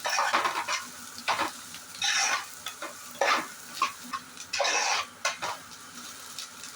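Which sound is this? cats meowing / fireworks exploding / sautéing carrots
sautéing carrots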